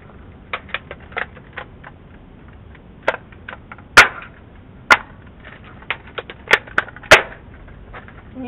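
Rival pistol shots in a video game, sharp cracking reports fired irregularly, some quick pairs and several louder single bangs, close and alone over a quiet background.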